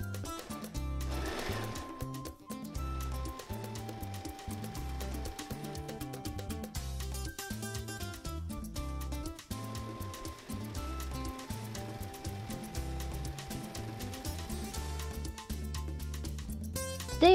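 A sewing machine stitches hoodie seams with a continuous, even mechanical whirr and rapid ticking, running steadily with brief pauses and no talk.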